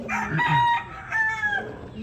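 A pet rooster crows loudly and close, one drawn-out call with a rising then falling tail, followed by a second crowing phrase.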